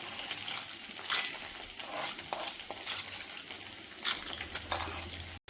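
Okra sizzles steadily in hot oil in a pan for a Karnataka-style bende gojju, with a constant close frying hiss and periodic louder scraping bursts as the pieces are stirred.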